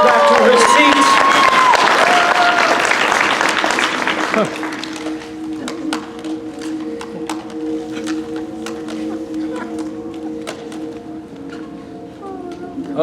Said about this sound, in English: Give her a big round of applause as she goes back to her seat.